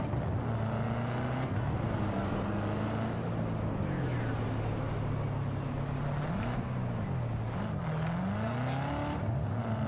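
A continuous car engine drone in Cyberpunk 2077 with shifting pitch, rising and falling as gears change, steady and loud throughout.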